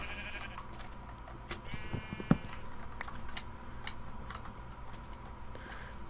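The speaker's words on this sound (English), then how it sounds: "Now we have to just get the pink sheep" A pink sheep in the Minecraft video game gives a couple of faint bleats amid soft clicking and tapping, with one sharp tap near the middle.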